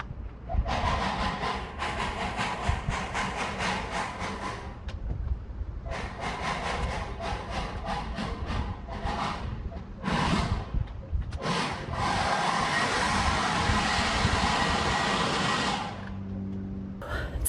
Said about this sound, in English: So I'm kind of just loosening it with the broom.